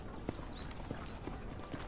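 Horse hooves clip-clopping in the video game Red Dead Redemption, a steady run of soft, evenly spaced hoofbeats at moderate distance over a continuous background bed.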